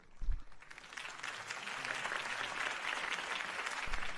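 Crowd applause at a political campaign rally in a Batman video game, a sustained wash of clapping that swells and holds steady, fairly close and unaccompanied by talk.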